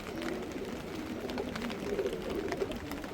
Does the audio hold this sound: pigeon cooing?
yes